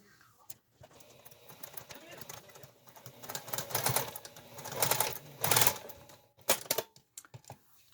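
A sewing machine stitching a small dress for a stuffed panda toy, running in uneven bursts of rapid mechanical whirring and clatter that swell louder toward the middle, with short pauses between runs.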